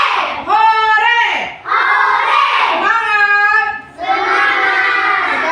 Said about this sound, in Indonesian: Teriak hore.